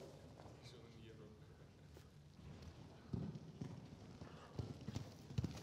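Horse hooves clip-clopping on an arena surface during a riding lesson, a steady rhythmic beat growing more distinct in the second half, heard under an instructor's voice talking.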